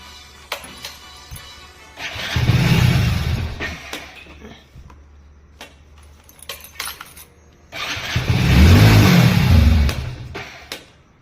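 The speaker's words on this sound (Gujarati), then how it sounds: "એ છે ને એમ ચાલુ કરે ને એટલે બંધ થઈ જાય." A Hero Splendor BS6 motorcycle with a starting fault makes two attempts: each time the engine catches with a loud, low rumble for about two seconds and then dies. Light clicks and rattles fill the quiet gaps between.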